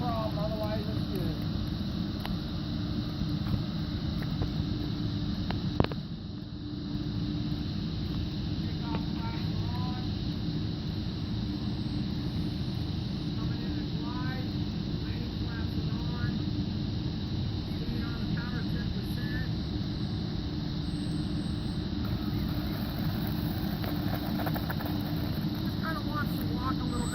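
An RC model F4U-4 Corsair airplane flies on its maiden flight, its engine drone steady and moderately distant throughout, with people talking now and then over it.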